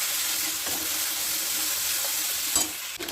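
Spice paste frying with boiled banana flower for mochar ghonto, a steady close sizzle with stirring scrapes and a brief clatter near the end.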